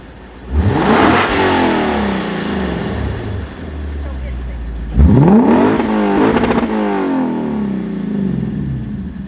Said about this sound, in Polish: Tu już dużo mocniej silnik słychać w tym,